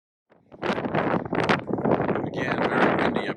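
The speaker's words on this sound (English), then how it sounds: "Again, very windy up here," Strong wind at the Hoover Dam buffets the microphone in loud, continuous roaring gusts that swell and ease, drowning out any other sound for a few seconds.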